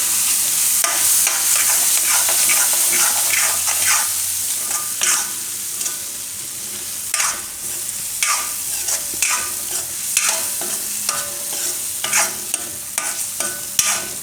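Tomatoes are stirred into garlic-seasoned carrots frying in a pan over low heat, with a steady sizzle and the repeated scrape and clatter of a spoon close by, and no talk over it.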